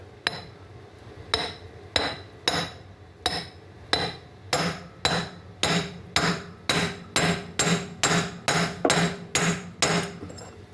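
Repeated hammer taps strike metal while driving a seal into a Bobcat 743 drive motor, starting spaced out then settling into a quick steady rhythm of about a dozen sharp knocks.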